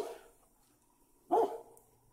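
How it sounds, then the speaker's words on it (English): A single short dog bark rings out after a moment of near quiet, fairly close and clear, with no one talking. "That's my dog."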